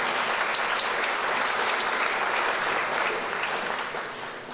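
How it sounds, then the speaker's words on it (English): An audience at the San Fernando Arts Council Sanfest launch claps in a dense, continuous round of applause that fades slightly toward the end, with no talking over it. "Give him another round of applause."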